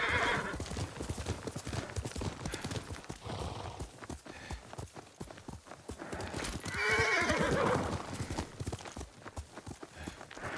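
Horse hooves clip-clopping steadily alongside repeated neighs and whinnies in the video game Ghost of Tsushima, with game music and ambience underneath and a swell of louder whinnying near the end.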